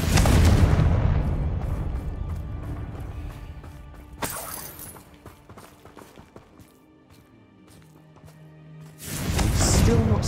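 Loud crashing blasts from the Confringo fire spell in a Harry Potter video game, a heavy burst at the start, a sharp crack near four seconds, scattered clatter, then another roaring explosion at the end.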